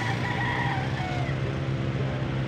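A Brown Head Sweater gamefowl rooster crows once over a steady background hum of traffic and other fowl at a market, the call drawn out and moderately near.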